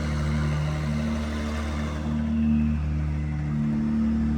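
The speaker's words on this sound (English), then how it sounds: "So just listen how quiet this car is. We're actually in quiet mode now" A rare sports car with an aftermarket exhaust and closed valves, running in quiet mode, gives a subdued steady low engine hum with slight swells in level and no talking.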